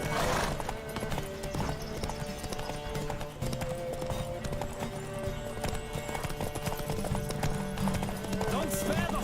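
A horse gallops in The Witcher 3 video game, steady rhythmic hoofbeats clip-clopping throughout with a brief whinny, mixed with game music and ambient sound, and a voice speaks over it.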